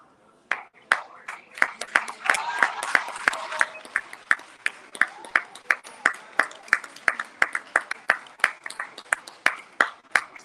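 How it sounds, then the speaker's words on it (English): At a commencement ceremony, a small group claps, first in a brief dense burst and then in a slower, fairly regular run of single claps, close and sharp, with faint voices underneath. "Round of applause for her."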